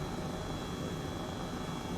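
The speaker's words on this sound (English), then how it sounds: "There's the jet again." A jet aircraft in Flight Simulator 2020 flying over Oslo, a steady low engine roar with a faint high whine, constant and fairly quiet, no speech.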